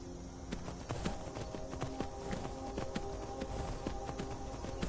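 Horse hooves gallop in the video game Skyrim VR on PlayStation VR, a steady drumming clip-clop that runs throughout amid busy game sound, with no talk over it.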